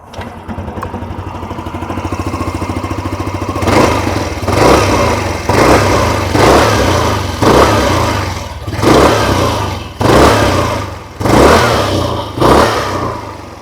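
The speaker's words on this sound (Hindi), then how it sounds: "आइए अभी सुन लेते हैं इस स्कूटर की एग्जॉस्ट नोट।" A 2026 Hero Xoom 160 scooter with a 160cc engine idles close by, then is revved sharply about seven times in a steady rhythm, each throttle blip rising and dropping back to idle.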